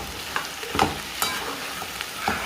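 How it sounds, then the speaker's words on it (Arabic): Kebab fries in a pan with a steady sizzle and crackle, while utensil scrapes and stirring clicks land every half second or so. No voices are heard. "هنا دا اقلي الكباب"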